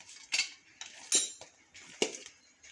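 Chicken biryani ingredients stirred in a pot, giving irregular metallic clinks and scrapes of a utensil against the vessel, close and fairly quiet, with silent gaps between strokes.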